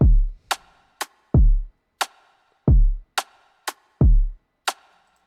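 Snappy layered rim shots click out a repeating groove between heavy, low kick drum thumps, loud and dry with a touch of reverb.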